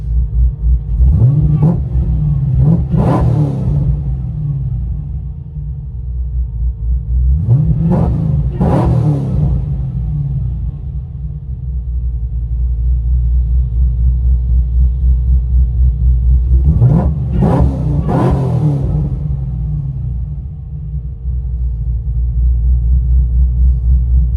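A supercharged Chevy Camaro SS with long tube headers idles with a deep rumble, then revs sharply three times, each surge climbing and falling back, heard from inside the car.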